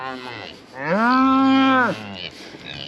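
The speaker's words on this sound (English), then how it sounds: "You dumb cow." A cow in a snowy pasture lets out one long, loud, close moo with a rising start and falling end, preceded and followed by quieter background sounds.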